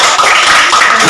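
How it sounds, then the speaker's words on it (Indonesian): Children in a school physical-education lesson on forward rolls clap together, a brief dense burst of many hands sounding close and steady without pause. "Tepuk tangan dulu."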